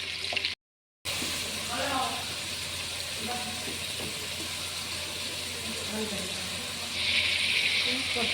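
Onions sizzle in hot oil with cinnamon, cloves and bay leaf for chicken biryani, a steady bright frying hiss that continues throughout, broken by a brief silence near the start, with a voice speaking faintly over it.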